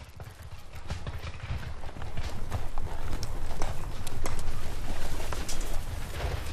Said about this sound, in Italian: Le truppe a cavallo entrano in acqua menando fendenti con le sciabole.